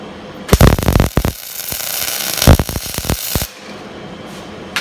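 Steel pieces for metal roses being welded: two bursts of harsh, sputtering crackle, each lasting about a second, over a steady background hiss, close and fairly loud, with no speech.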